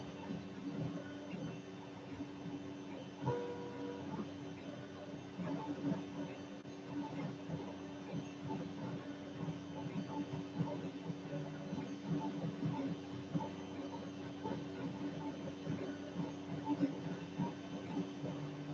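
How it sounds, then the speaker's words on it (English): A Creality CR-10S 3D printer runs through a print job with a faint, steady hum and soft, shifting motor whines that continue throughout without pause. "we do indeed have a printing printer"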